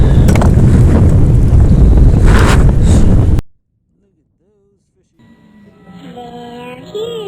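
Strong wind buffets a small fishing boat on rough open water, a loud, steady roar of gusts that stops abruptly after a few seconds, followed by a quiet gap and then faint voices.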